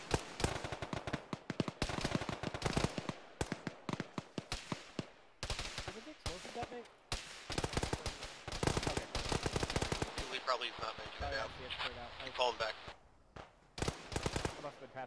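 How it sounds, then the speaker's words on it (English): An ammo dump explodes and cooks off in a military video game, setting off rapid, loud bursts of cracking detonations and popping rounds that keep going across the whole stretch, with a brief lull, and a voice comes through faintly. "the ammo dump exploded"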